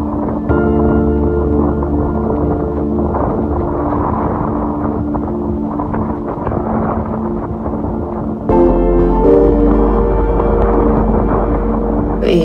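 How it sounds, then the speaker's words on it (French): Strong wind in Iceland roars steadily against the microphone, a loud continuous rush with a low droning hum underneath that swells louder near the end. "le vent commence à vraiment devenir de plus en plus puissant"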